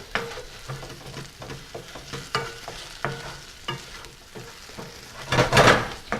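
Vegetables being stirred in a pan while poaching snapper in crazy water, with a soft steady sizzle under repeated scraping and clinking strokes and a louder clattering burst near the end.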